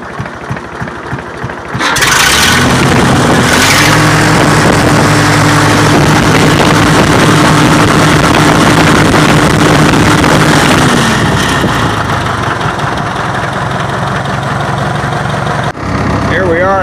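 Minneapolis M670 LP tractor engine starts up and runs steadily, a loud close rumble with a sustained harmonic drone that holds for several seconds before easing as the tractor pulls away.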